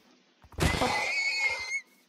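A horse in the Minecraft video game gives a single loud, drawn-out whinny lasting over a second, close and clear, heard on its own without talk.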